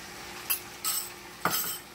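Garlic hits a pan of browned beef for a stew, with a low, quiet sizzle underneath and a few brief scraping and clinking utensil sounds as it is stirred in.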